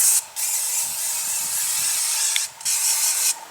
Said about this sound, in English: you're just going to spray paint over